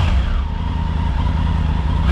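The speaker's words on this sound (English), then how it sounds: "This is the sound of the standard exhaust." A motorcycle on its standard exhaust idles and revs close by, a loud, steady engine drone with a rising pitch sweep partway through and the revs picking up again at the end.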